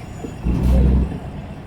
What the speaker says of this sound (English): After these trucks go.